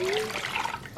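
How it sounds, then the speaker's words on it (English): Water pours into a cooking pot holding beef for tamales, a brief close trickling and splashing stream with a rising tone as the pot fills. "We're going to add some water."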